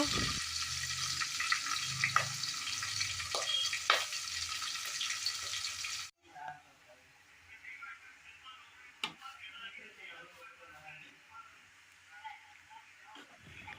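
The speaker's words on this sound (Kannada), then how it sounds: "ಇವಾಗ ಅದನ್ನು ಒಗ್ಗರಣೆ ಹಾಕ್ಕೊಳ್ಬೇಕು" Spices temper in hot oil, sizzling and crackling loudly for a few seconds, then dropping to a quieter simmer with scattered small pops and ticks.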